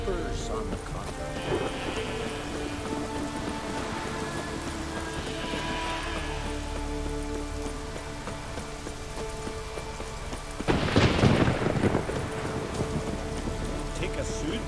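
Rain in the Witcher 3 Wild Hunt video game, a steady hiss of falling drops throughout, with one louder crackling burst near the end and faint background game sounds.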